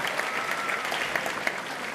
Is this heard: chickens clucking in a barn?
no